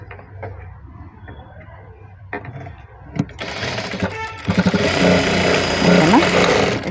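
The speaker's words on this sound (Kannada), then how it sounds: "ಈ ಥರ ಇಟ್ಟು ಹಿಂಗೆ ಸ್ಟಿಚ್ ಮಾಡ್ಕೊಂಬಿಡೋಣ ಮಧ್ಯಕ್ಕೆ" A sewing machine stitching scrap cloth runs in a buzzing, rising whir that grows louder and steadier toward the end, after quieter handling clicks and shuffling.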